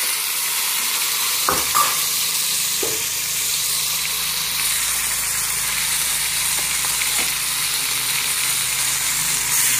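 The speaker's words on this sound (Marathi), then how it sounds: "आता कांदा व्यवस्थित भाजायला लागला." Onion fries in oil with mustard seeds, cumin and ginger-garlic paste, giving a loud, steady, close sizzle with a few brief utensil knocks early on, no talking.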